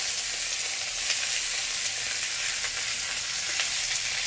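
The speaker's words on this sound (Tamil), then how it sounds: "இந்த வெங்காயம் கேரட்லாம் கொஞ்சம் வதக்க போகிறேன் அதுக்கு எண்ணெய் ஊற்றி கடுகு போட்டிருக்கேன்" Onion and carrot sauté in hot oil with mustard seeds, giving a loud, continuous close-up sizzle with faint crackles throughout and no talking.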